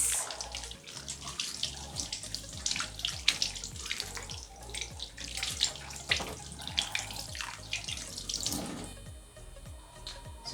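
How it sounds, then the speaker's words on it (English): Hands washed under a running kitchen tap, steady splashing water with irregular slaps and drips as the hands move through the stream, close and continuous, no talking. "I want to first of all wash my hands because I'm going to use hands to mold it."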